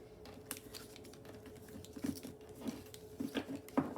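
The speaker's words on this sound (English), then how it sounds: "Let's give this all a shuffle." Matte, non-glossy tarot cards being shuffled by hand, a series of soft riffling flutters and light taps at close range, fairly quiet, with no speech.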